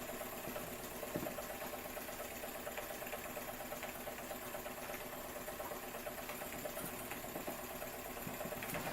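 A Jensen 75 model steam engine runs steadily, its mechanical whirr and faint rhythmic clicking continuous and close, with no voices over it.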